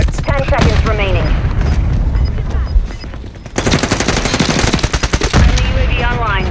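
Call of Duty: Modern Warfare III multiplayer combat with loud, close bursts of rapid automatic gunfire and a Semtex grenade blast, under brief game voice callouts.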